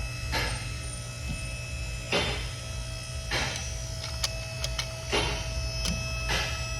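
An electric brake caliper piston being compressed, with a low motor whir under repeated mechanical ratcheting bursts roughly every second or so, plus a few faint clicks, close and without talking.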